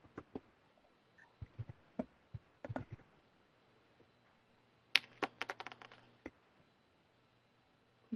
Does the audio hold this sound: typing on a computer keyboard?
yes